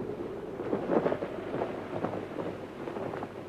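Rough, rumbling wind and surging sea building toward a storm, a dense broadband roar with heavier swells, no voices.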